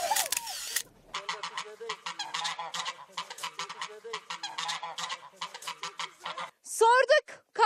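Geese in Kars, Turkey, honk close by in a rapid, raucous series of calls, a flock chattering almost nonstop with higher squawks near the end.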